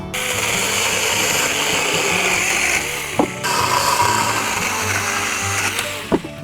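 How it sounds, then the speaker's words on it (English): A mini chainsaw cutting through wooden stakes at an allotment, a loud, steady buzzing whine close by that dips briefly around each cut before revving back up, with no voices. "Let's get the mini chainsaw out."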